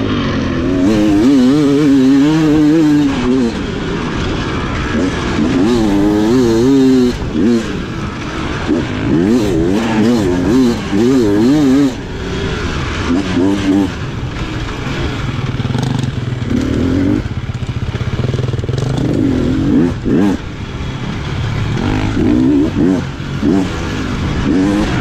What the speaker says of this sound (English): I could very much hear his bike behind me here, by the way.